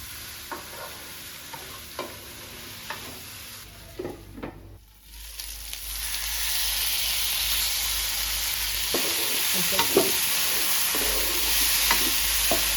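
Brinjal curry with onion-chilli masala cooking over a medium flame: a few spoon scrapes and stirs, then a louder, steady sizzle and hiss that continues to the end.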